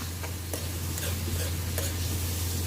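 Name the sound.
sautéing eggplant adobo in a pan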